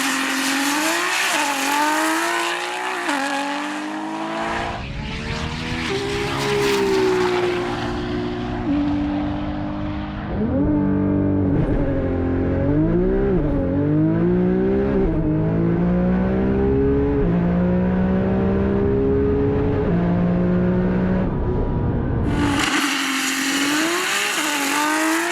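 A Nissan R35 GT-R with a 4.1 litre AMS build makes a runway run. A loud engine wails through rising and falling gear sweeps, framed by bursts of broad rushing noise at the start and end.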